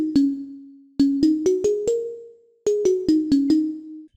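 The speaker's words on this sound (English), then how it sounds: "Pluck Forest is a organic pluck sound and it sounds like this." Organic pluck synth preset from Serum for future bass and trap, playing a short melodic phrase of two groups of sharp plucked notes with soft decaying tails, clear and alone without talk.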